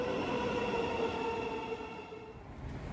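A Thameslink train runs through the tunnel between St Pancras and Farringdon, a steady rumble of wheels on rail with a faint high squeal, heard from a distance.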